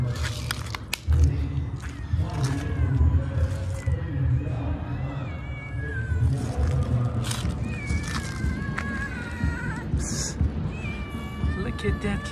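Hungry stray cats and a kitten meow repeatedly and insistently, several close high cries overlapping, while a person talks over them outdoors with footsteps and movement around.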